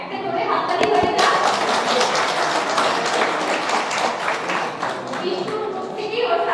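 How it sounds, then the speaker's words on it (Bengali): Loud applause from a class of exam candidates congratulating a successful student, dense sustained clapping across the whole stretch with some chatter mixed in. "একটা জোরে হাততালি হয়ে যাক"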